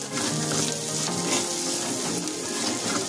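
Turmeric stirred into a frying potato curry masala brings a close, continuous sizzle and crackle, with light scraping of the stirring spoon throughout.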